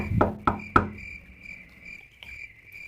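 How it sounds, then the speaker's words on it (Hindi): Knocking on a door in an animated creepy story, three sharp knocks in quick succession followed by one fainter knock, set over a steady chirping cricket background. "उसने दरवाज़ा खटखटाया"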